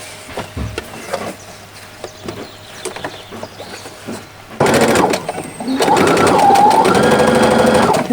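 A sewing machine stitches a small salmon-colored party dress. Quiet handling and rustling come first, then the machine runs steadily for several seconds, loud and close, with a brief pause mid-run.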